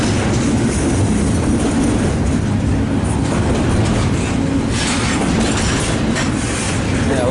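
A freight train rolls past at a railway junction known as the Jackknife, a steady loud rumble and rattle of cars that continues unbroken throughout, close by.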